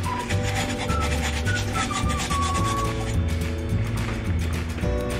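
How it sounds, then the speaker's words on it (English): Fine sandpaper rubbing on the chipped rim of a drinking glass, a continuous close scratchy rasp with rhythmic back-and-forth strokes under a faint tonal background. "Use my sandpaper. And this is a really fine sandpaper."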